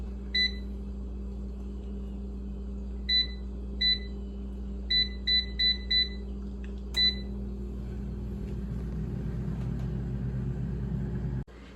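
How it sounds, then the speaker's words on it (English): Air fryer signalling cooking is done with a series of short, sharp electronic beeps, single and in quick clusters, over a steady low hum of the running appliance; no talk. "The air fryer just beeped."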